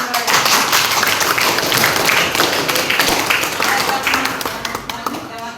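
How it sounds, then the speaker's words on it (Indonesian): A classroom audience applauds loudly and continuously, a dense wash of many clapping hands that keeps on throughout and fades slightly near the end. "beri tepuk tangan saya"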